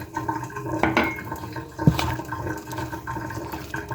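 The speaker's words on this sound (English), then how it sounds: "Then now you go in with your milk." Milk pours into an egg and flour batter for ginger carrot pancakes, a close liquid splashing and gurgling with a few clinks against the bowl.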